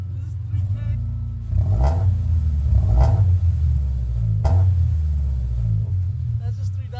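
On a 2015 Scion FR-S with Skunk2 headers and a Spec-D catback exhaust, the engine rumbles loudly up close, swelling in a few throttle blips toward about 3,000 rpm as people talk over it.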